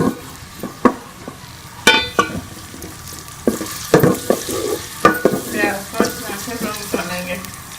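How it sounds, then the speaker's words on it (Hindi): Onions fry in oil in a pot while a spoon scrapes and stirs them, giving a steady sizzle broken by repeated clinking and scraping strokes, close and moderately loud, with no talking. "अब प्याज को ब्राउन डालेंगे।"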